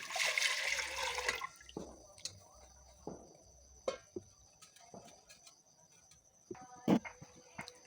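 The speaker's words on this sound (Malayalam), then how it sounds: "1 ലിറ്റർ വെള്ളം ഒഴിക്കുന്നു." A short burst of water, about a litre, pours into a pressure cooker on the stove for over a second, then stops, leaving a few scattered clinks and light taps of metal.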